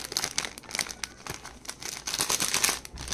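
A plastic packet holding an old half-anna coin from Indore crinkles as it is opened close by, with a run of dense, irregular rustles and crackles.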